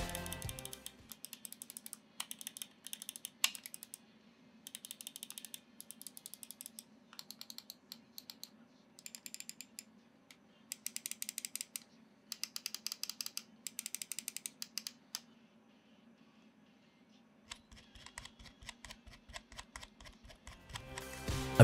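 Button presses and scroll wheel turning on a Dareu A950 wireless gaming mouse: bursts of crisp, close clicking and ratcheting wheel ticks, separated by short quiet pauses, heard alone in a quiet room.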